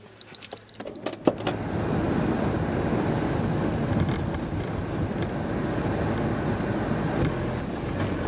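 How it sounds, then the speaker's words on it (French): Wind blows hard across an open seaside spot at Cap d'Agde, a steady roaring rush into the microphone after a few brief clicks and bumps at the start. "la bonne nouvelle, c'est que le vent s'est levé."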